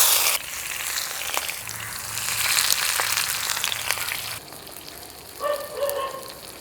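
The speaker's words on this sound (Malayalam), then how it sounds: "അപ്പോൾ നമ്മളെല്ലാ മീനും ആ ഇലയിൽ പൊതിഞ്ഞു വെച്ചില്ലേ ഇനി നമുക്ക് നന്നായിട്ടൊന്ന് വറുത്തെടുക്കണം" Fish wrapped in pumpkin leaves frying in coconut oil in a pan, a close, steady sizzle that quiets near the end, where some brief clinks and a short tonal sound follow.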